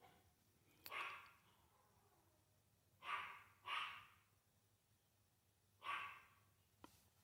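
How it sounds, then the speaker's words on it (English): A dog barks from downstairs in a house, four separate muffled barks spaced irregularly over several seconds, faint and distant against a quiet room. "My dog is going crazy downstairs."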